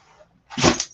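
A single short, sharp sneeze bursts out close by after a brief quiet moment.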